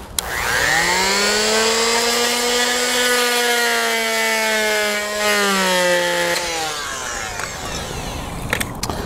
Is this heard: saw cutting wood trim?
yes